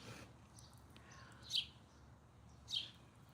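Two brief, high chirps from birds flying over an outdoor yard, spaced about a second apart against a faint, steady background hum; soft and somewhat distant, with no talking.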